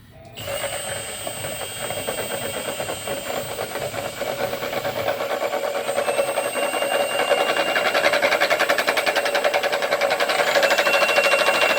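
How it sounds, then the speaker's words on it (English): A paint mixer for spraying poly onto homebuilt Affordaplane wings runs steadily and close, a continuous mechanical whir with a faint rapid rattle and a high whine, nothing else heard. "So let's put the mixer on."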